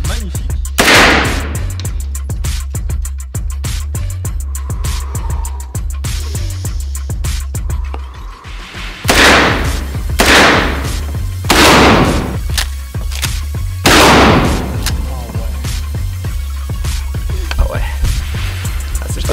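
Firearm shots at a shooting range in Switzerland, several loud sharp bangs spaced a few seconds apart over a steady low background hum.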